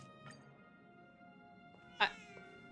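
A cartoonish cat in a video game lets out a single short, bright meow near the end, heard over a faint steady game background.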